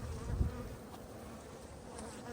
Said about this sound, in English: we got a couple bees that always fall in